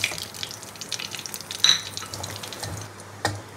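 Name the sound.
dry red chillies and nigella seeds tempering in hot oil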